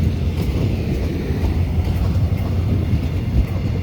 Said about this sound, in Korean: 기차는 다시 익산으로 향하는데요